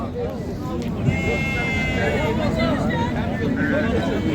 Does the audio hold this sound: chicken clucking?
no